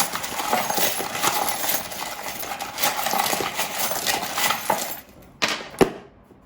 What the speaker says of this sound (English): Let me shuffle it up really well.